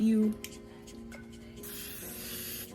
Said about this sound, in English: This is ultra fine hairspray.